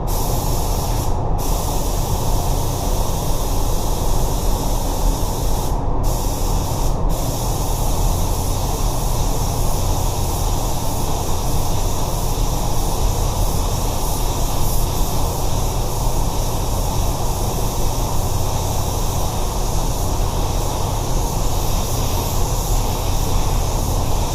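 A spray gun hisses steadily and loudly, laying a blend of pearl white paint over a repaired bumper in a three-stage pearl white refinish, the continuous spray broken only by a few brief pauses.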